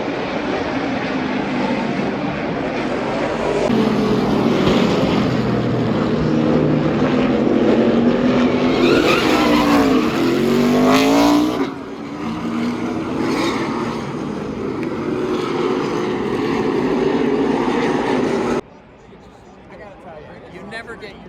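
NASCAR race cars roar past at Charlotte Motor Speedway, a loud sustained engine blare with a rising-then-falling sweep as the pack passes close by, then fading and dropping off sharply, with a voice talking over the noise.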